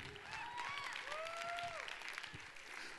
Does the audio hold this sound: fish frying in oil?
no